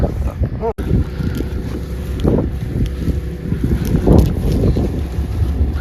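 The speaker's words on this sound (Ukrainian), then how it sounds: "вітер так піднімається." Strong wind buffeting the microphone in a steady low roar with gusty swells, loud and continuous outdoors.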